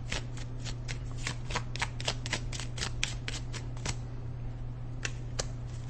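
Tarot cards being shuffled and drawn, a rapid, crisp run of riffling card flicks repeating steadily and close up, with no voices over it.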